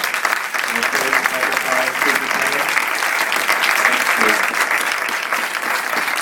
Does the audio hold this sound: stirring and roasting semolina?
no